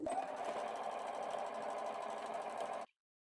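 A sewing machine set to a small 2.5 stitch length runs steadily through patchwork fabric for a pot holder, a close, even mechanical whirr lasting nearly three seconds before stopping abruptly.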